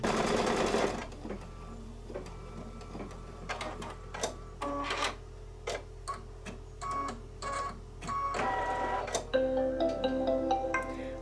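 Embroidery machine stitching a final circle of stabilizing stitches on a Kimberbell Christmas ornament held in a bamboo hoop: a brief whir at the start, then a steady run of quick mechanical needle clicks and motor hum, close and clear with no talk.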